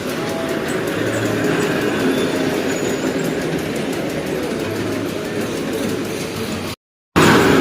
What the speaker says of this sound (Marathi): सेम ट्रेन सारखा आवाज येतोय.